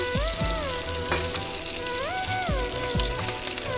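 Ginger garlic paste fries in a pan with a steady, close sizzle, with occasional stirring scrapes and a tonal whine running through the background.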